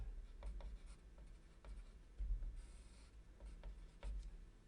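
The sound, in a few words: pencil writing on paper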